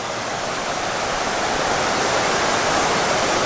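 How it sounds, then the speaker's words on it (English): River rapids rush past a trail along the Appalachian Trail, a steady, loud, dense roar of churning whitewater that fills the whole clip without a break, close to the listener and with no voices. "Some awesome rapids."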